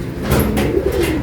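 A racing pigeon arriving home in rain after a long race, heard as a brief, close coo under a wash of steady rain-like background noise.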